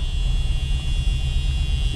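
1973 Chevy Chevelle SS 454 barn find with a Muncie 4-speed idling, a loud steady low rumble with a constant high whine above it, close by and continuous, with no voices.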